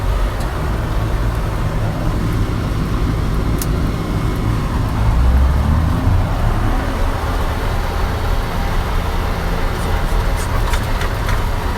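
A 140-horsepower 7600 tractor spreading manure drones loudly and close, its engine a steady low rumble with some variation in load, a few faint clicks over it.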